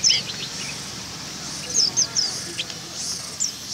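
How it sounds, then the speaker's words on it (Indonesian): Songbirds for sale at a traditional Sunday bird market in Payakumbuh, West Sumatra, give sharp, high chirps in short scattered bursts over a steady bustling background. "di sini juga ada burung ciblek"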